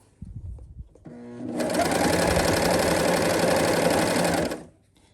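A sewing machine stitches fabric for nightwear pants, starting after a few soft handling noises and then running at a steady, fast, close mechanical rattle for about three seconds before stopping abruptly.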